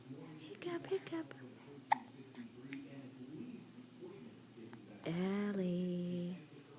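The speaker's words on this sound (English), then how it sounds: "Hiccup, hiccup." A baby's small hiccups come as brief, soft sounds near the start, and then a longer held vocal sound follows near the end, all heard up close in a quiet room.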